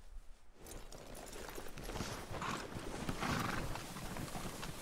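Horses in the Red Dead Redemption 2 video game clip-clop steadily on the ground with a whinny, the hoof beats rising after a quiet start and carrying on at moderate level.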